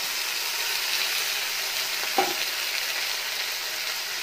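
Tomato and onion fry in a pan with a steady, close, dense sizzle throughout, broken only by one short clink of a utensil partway through.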